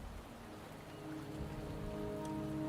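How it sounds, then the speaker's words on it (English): Soft, steady rainfall patters in the video game Wuthering Waves, a faint continuous hiss of drops without any voices. "The rain is subsiding, and the sky will soon clear."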